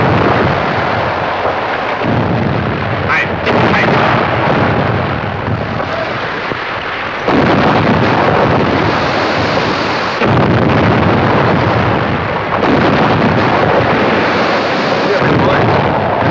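Rapid gunfire aimed at a submarine, heavy booming blasts and rumbling bursts repeating in loud waves with short lulls between them.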